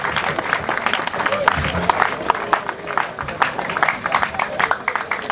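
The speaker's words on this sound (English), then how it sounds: "Shall we give a round of applause for the new president?" An audience applauds at a university investiture ceremony honouring a new president, with many hands clapping in a lively, uneven patter that comes close and fairly loud, while scattered voices and cheers mix in underneath.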